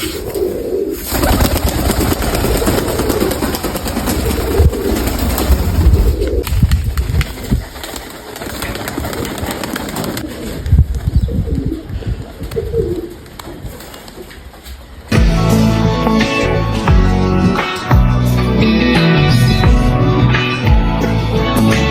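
Mykolaiv pigeons, including a red-breasted hen, cooing repeatedly in a loft, soft rolling coos layered over one another, with a louder, busier stretch of birdsound toward the end.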